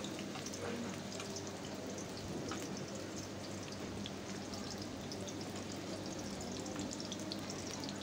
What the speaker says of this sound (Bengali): তো ভালো মতন ভালো মতন ভেজে নিচ্ছে, এই যে আলুটাও ভেজে নিচ্ছে।